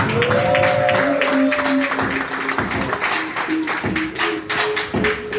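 Comedy club audience applauding and cheering as a comedian is brought to the stage in New Jersey, a dense roar of clapping and whoops with music tones underneath, loud and continuous.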